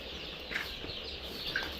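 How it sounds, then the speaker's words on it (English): Improved kienyeji chicks in a crowded brooder give off a dense, steady bed of high chirping, with a few brighter peeps standing out now and then. "All these are improved kienyeji birds in our brooders."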